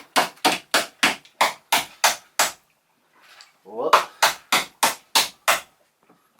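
Sharp metal hammer strikes from a pliers-shaped hammer tool used while lining up a hole on a boat, a steady run of about eight evenly spaced blows, a short pause with a voice calling out, then another even series of strikes.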